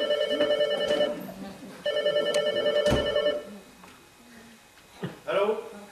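Old-style telephone bell rings twice in a home, bright clanging bursts about a second long, then a brief pause and a clatter as the receiver is handled; a voice speaks faintly in the background.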